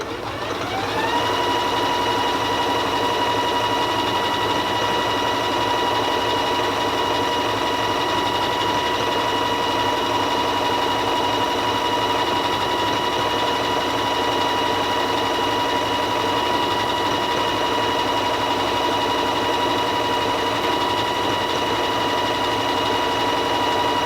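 A Janome Skyline S3 sewing machine running steadily on a decorative stitch, a loud, even motor whir with rapid needle clatter, starting after a brief ramp-up and continuing without pause.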